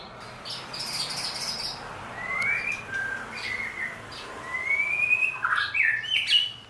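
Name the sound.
white-rumped shama (murai batu baret merah) singing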